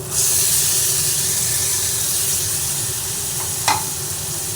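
Marinated chicken sizzles loudly in hot oil and spices in a pan while it is stirred and turned, a steady close frying hiss with one brief scrape near the end.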